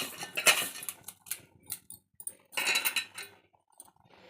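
Prawns mixed with turmeric and salt in a bowl for a gongura prawn pickle, producing intermittent close clinks and scraping taps of utensil against the bowl, with short pauses between strokes.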